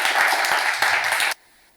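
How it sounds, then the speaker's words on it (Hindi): A live audience claps loudly and steadily for about a second and a half to welcome a poet at a televised Hindi poetry gathering, then the applause cuts off abruptly. "और मैं एक बार जोरदार तालियों से आमंत्रित करूंगी"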